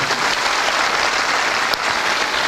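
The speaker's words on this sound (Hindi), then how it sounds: "उनके पिताजी के लिए जोरदार तालियां जरूर होनी चाहिए" An audience applauds loudly and steadily for a father, a dense, continuous wash of clapping with no talk over it.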